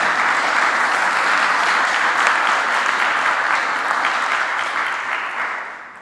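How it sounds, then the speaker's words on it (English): Loud, dense audience applause closes a firmware conference talk on U-Boot with Chrome OS, holding steady for several seconds before tapering off at the end. "Give a round of applause."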